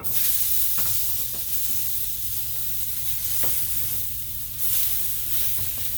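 Food frying in a hot pan sizzles and hisses loudly and without a break, with a few short scrapes and taps as the pieces are flipped over.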